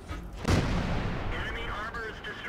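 A tank cannon in World of Tanks fires one loud, booming shot at a Jagdpanther, followed by a rumbling decay, while a voice talks faintly over the game noise.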